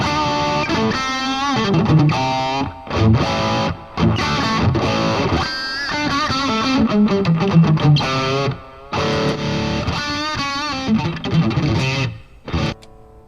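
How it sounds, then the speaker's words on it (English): Heavy, saturated electric guitar riffing through a thick distorted Orange amp, loud and close, with chords and sustained notes broken by brief pauses. "Orange amps are pretty thick distortion."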